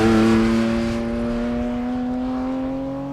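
A Porsche Cayman GT4 RS fitted with the Cup car engine holds a loud, steady high-pitched engine tone that slowly eases off as it continues, with no voices.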